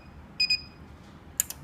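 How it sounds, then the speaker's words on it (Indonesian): An Albox ACP811A alarm in active mode gives short, sharp electronic double beeps, two close pairs about a second apart, loud against a quiet room. "Dan ini alarm posisi aktif seperti ini. Ini menandakan aktif."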